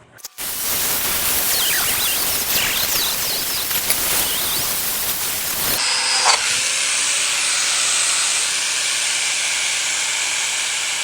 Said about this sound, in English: let me clean the metal up a little bit more, and then we're gonna get the welding.